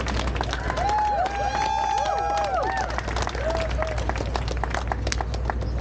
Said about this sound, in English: Let's give a round of applause to Leo, please.